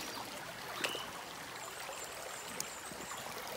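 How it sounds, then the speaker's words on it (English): Gentle, continuous rush of a creek flowing over bedrock rapids, a soft broadband wash heard alone at moderate distance, with a couple of faint clicks. "Goes over those bedrock rapids right there."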